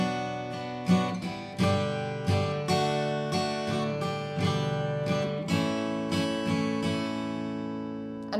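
Acoustic guitar strumming a chord progression in a steady rhythm, each strum ringing out clearly and close, with no voices.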